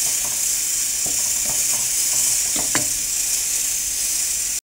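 A Maharashtrian brinjal curry, vangyachi amti, sizzles steadily in a pot while being tempered, with a few faint clinks and taps over the hiss before it cuts off abruptly at the end, no talking.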